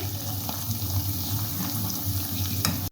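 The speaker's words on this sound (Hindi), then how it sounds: "दोनों तरफ से प्यारा सा कलर आने तक हम इन्हें फ्राई करेंगे" Khari biscuit puffs fry in hot oil with a steady, soft crackling sizzle, close and fairly quiet, ending abruptly.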